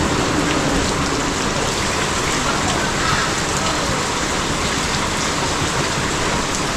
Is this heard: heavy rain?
yes